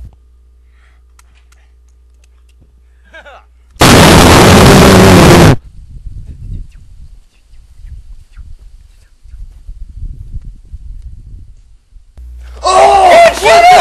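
Two guns fire together in Metal Gear Solid, a loud dense burst of rapid gunfire lasting under two seconds and standing alone, with quieter game sounds and a voice following afterward.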